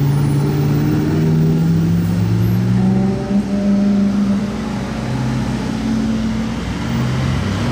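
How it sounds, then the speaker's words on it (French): Hypercars in a convoy drive through Monaco, with a white Ferrari following close behind; steady loud engine drone with low rumbling tones rising and falling as the cars pass nearby, no talking. "La Ferrari blanche qui suit presque le convoi."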